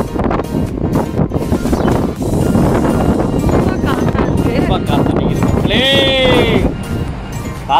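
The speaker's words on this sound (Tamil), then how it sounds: "காத்துனா காத்து, அப்படி ஒரு காத்து." Strong wind roars during a sandstorm at a street signal in Fahaheel, Kuwait, buffeting the microphone in a loud, continuous rush while a person talks over it.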